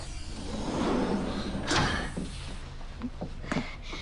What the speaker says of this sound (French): Romain, j'arrive pas à ouvrir la porte!